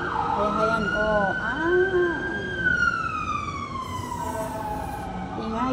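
A wailing siren rises and falls over a steady rumble of passing highway traffic heard from the roadside, loud and close, with some faint voices underneath.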